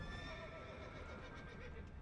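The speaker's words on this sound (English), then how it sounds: "Donkey." A donkey brays in the Witcher 3 video game, a loud, wavering braying cry running throughout, with faint game ambience beneath it.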